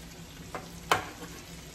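Onions frying slowly in a pan for classic French onion soup, a soft continuous sizzle with a couple of brief stirring scrapes, one louder than the other.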